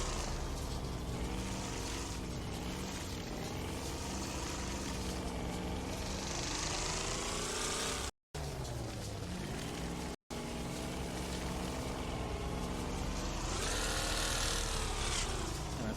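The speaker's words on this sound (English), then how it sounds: "And I throw it to second or rev limiting" A car engine in a Wreckfest race, an A class car, droning loudly and continuously with wavering pitch that climbs and holds near the rev limit, broken by two brief dropouts.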